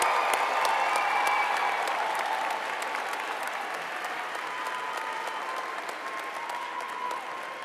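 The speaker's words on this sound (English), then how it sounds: "Let's give them a big round of applause." Steady, sustained applause from a large crowd at a university commencement fills the space, dense even clapping that stays loud throughout and fades only slightly toward the end.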